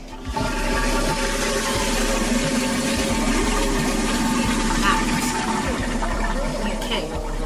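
A toilet flush sound effect plays as a loud, continuous rush of swirling water lasting several seconds, with voices talking over it.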